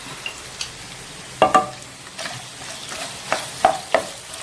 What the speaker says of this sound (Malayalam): നമുക്കിത് നന്നായിട്ട് വഴറ്റിയെടുക്കാം